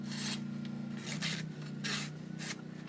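A butter knife sharpened on a stone, with about five rasping strokes at an uneven pace and a low steady hum beneath, close and fairly quiet.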